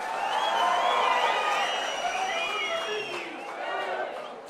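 A large rally crowd applauds and cheers loudly and steadily for several seconds, with whoops and shouts rising over a dense wash of clapping and no break in the noise.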